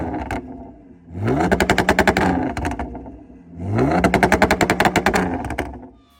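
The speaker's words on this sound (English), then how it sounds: "that two-step sounds insane from the outside" Audi S5 two-step launch heard from outside: two bursts of engine revving held at the limiter, each with rapid machine-gun-like popping and crackling, loud and close, with quieter idle between.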